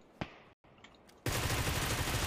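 Automatic gunfire in a shooting video game: a single sharp crack and a short lull, then a loud, continuous burst of rapid shots that fills the rest of the moment.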